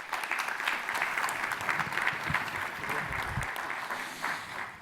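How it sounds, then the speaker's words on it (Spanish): An audience at a pension debate applauds a panel speaker, producing a steady, moderately loud patter of many hands clapping that holds evenly throughout without any talk over it. "También pido un aplauso para Andras"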